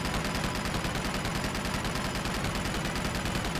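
Enemy gunfire in Uncharted 2 on Borneo, rapid sustained automatic bursts crackling steadily and loudly throughout with no pauses.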